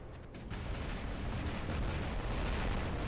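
Robot gunfire in the War Robots video game, a dense continuous roar of booming, rumbling shots and blasts that fills the whole stretch without pause.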